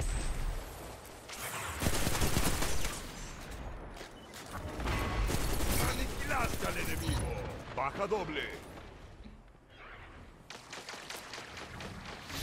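El Invocador automatic rifle in Destiny 2 fires loud bursts, roughly three long volleys separated by short pauses, with a voice talking over the gunfire.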